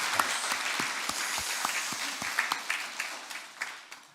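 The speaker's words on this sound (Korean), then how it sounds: "우리 하나님의 영광을 우리 박수로 또 영광 올리겠습니다" A church congregation at Sunday worship claps in praise, with rhythmic hand claps beating close over a full room of clapping that swells and tapers off toward the end.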